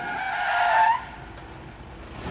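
A 1975 Citroën CX 2200 brakes hard from 100 km/h, with a loud tire squeal for about a second that cuts off abruptly into quieter road noise.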